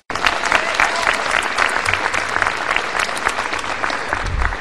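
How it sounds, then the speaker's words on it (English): Sustained applause from a crowd, steady clapping with a few louder bursts, filling the whole stretch. "So let's give them an applause for supporting you."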